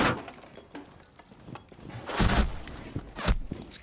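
Gunfire in the Rainbow Six shooter game comes as scattered, fairly faint bursts and sharp cracks, louder clusters in the second half, mixed with soft clattering game effects.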